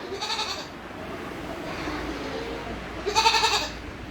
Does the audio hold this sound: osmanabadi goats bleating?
yes